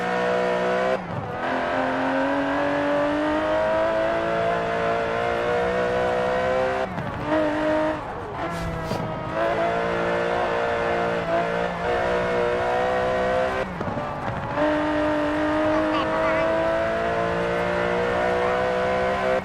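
Twin-turbo 5.2-litre V12 of an Aston Martin DB11 in Forza Horizon 4, revving hard and steady, with brief gear-change dips and fresh pulls as the loud engine note climbs repeatedly.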